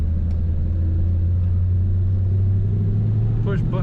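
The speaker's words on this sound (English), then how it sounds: "This was an easy start, idled right away." A 1940 Ford Standard five-window coupe idles with a steady, close low rumble that holds even throughout, with a brief voice-like sound near the end.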